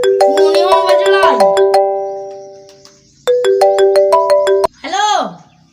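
A mobile phone plays a loud melodic ringtone, ringing twice with a fading tail and a pause between, then a short sweeping electronic tone closes it out.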